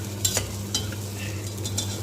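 Ginger garlic paste sizzles in hot oil for tomato rice while a spoon stirs it, scraping the pan in a few quick strokes over a steady, quiet fry.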